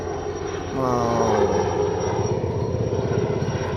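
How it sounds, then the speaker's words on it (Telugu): A propeller aircraft drones overhead, its engine hum steady and fairly loud, with a brief rising tone early on. "మనం అక్కడ ఫ్లైట్ పోతుంది చూడవచ్చు ఇక్కడ ఫ్లైట్ చూడండి"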